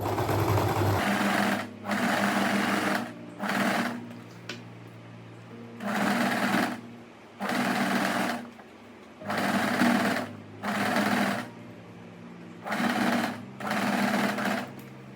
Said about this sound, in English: we'll just carefully stitch all the way around.